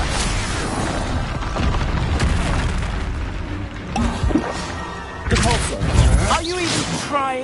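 Spell blasts from Expulso and other casts in a Hogwarts Legacy duel burst as loud booming explosions over a dense game soundtrack, with heavier bursts near the end while a voice talks.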